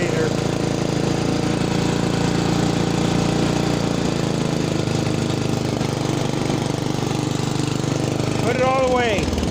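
A Ranch King riding lawn mower with a faulty throttle runs steadily at close range, a continuous droning engine hum with a brief rising rev near the end.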